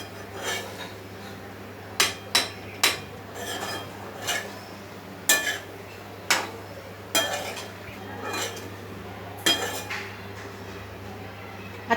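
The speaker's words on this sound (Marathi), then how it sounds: "आता आपला छान मिक्स करून झालाय।" A spoon clinks and scrapes against a metal pot while soya bean and sweet corn rice is stirred and mixed, with irregular sharp taps every second or so over a steady low hum.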